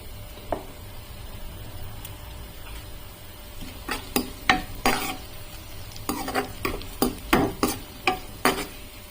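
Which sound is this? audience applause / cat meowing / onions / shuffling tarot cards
onions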